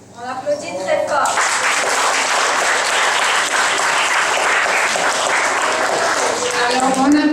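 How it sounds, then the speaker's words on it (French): Audience at a school spelling contest breaks into loud, sustained applause that starts abruptly and continues steadily to the end, with faint voices mixed in. "On applaudit très fort."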